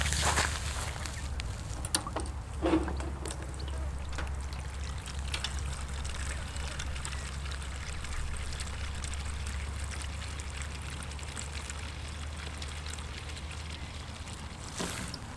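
Water pours steadily into a drinking container set out for turkeys on a hot day, a continuous splashing trickle with a low steady rumble underneath and a few faint knocks near the start and end.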